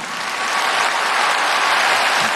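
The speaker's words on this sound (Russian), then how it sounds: "Аплодисменты именно вам!" Dense, steady applause from a large audience in a concert hall at a music award ceremony, loud and sustained without a break for the full stretch, with no voices rising above it.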